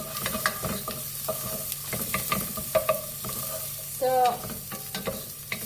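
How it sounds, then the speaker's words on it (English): Onions and garlic fry in a pot for bone broth, a moderate sizzle broken by clattering stirs and scrapes of a utensil, close up, with a brief spoken word near the start. "the onions and the garlic is cooking at the moment"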